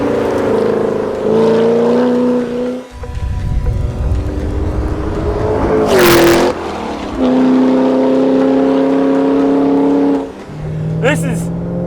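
A Ford GT supercar, modern successor to the GT40 race car, revs and accelerates hard, its engine tone climbing and dropping through gear changes in loud, close bursts, with someone talking over parts of it.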